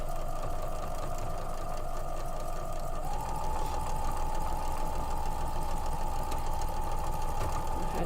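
A sewing machine runs steadily while stitching a quilt seam, giving a smooth, even mechanical hum with a slight shift in pitch partway through, close and unbroken throughout.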